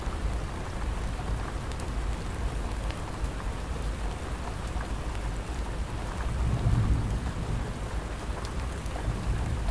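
Steady rain drums on a tent through the night, broadband and continuous, with a deep rumble of thunder swelling briefly near the end; no voices.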